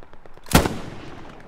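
A single sharp gunshot in the WWII shooter Hell Let Loose, one loud close crack with a short reverberant tail fading over a second.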